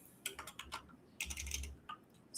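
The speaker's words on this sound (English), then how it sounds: "I'm typing into Facebook right now" Fast typing on a computer keyboard, bursts of quick close key clicks with brief pauses between them and no talking.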